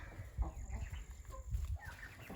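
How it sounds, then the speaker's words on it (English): Hens cluck and murmur in low, scattered bursts close by, a soft continuous barnyard chatter with no talking. "Hens are singing already."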